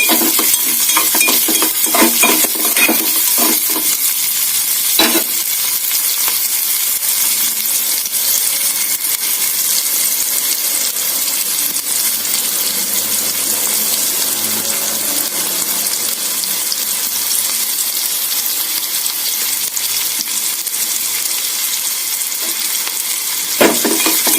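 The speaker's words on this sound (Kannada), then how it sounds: "ಈರುಳ್ಳಿ ಮತ್ತು ಹಸಿಮೆಣಸಿನಕಾಯಿ ಒಂದು ಸ್ವಲ್ಪ ಫ್ರೈ ಆಗಲಿ" Onion and green chilli fry in a pan, giving a steady, fairly loud sizzle with scattered stirring clatter near the start and end, no voices.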